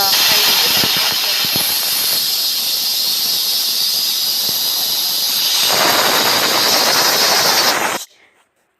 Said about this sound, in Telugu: అలా విజిల్స్ అయిపోయిన తర్వాత ఒకసారి ఆవిరి మొత్తం పోయిన తర్వాత చెక్ చేసుకోండి